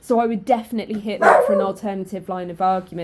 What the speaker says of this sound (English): Sorry about the dog, he's getting cross here.